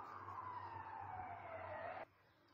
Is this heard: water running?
no